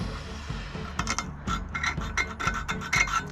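A steel scribe scratches a marking line onto metal for a Mk7 Golf towbar build, a series of short, dry rasping strokes close up with a quiet workshop background.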